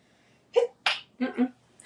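A single close sneeze with a sharp intake and burst, followed by brief murmured sounds.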